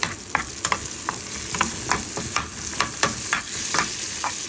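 Spices, chopped ginger, a little chopped onion, capsicum and tomato sizzle in hot oil as a tempering for beef curry with flat beans, with steady frying hiss punctuated by repeated sharp stirring scrapes and clicks.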